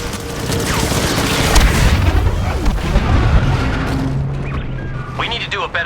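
A grenade explosion in Star Wars Battlefront II (2017) on Geonosis, a heavy boom set within dense, continuous battle noise of blasts and gunfire, with game voices speaking over the din.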